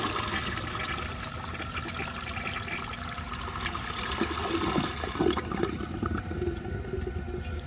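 A 1930 Eljer Sanus toilet flushes a load of socks, a loud close rush and swirl of water that holds steady and then drains into a gurgling refill trickle.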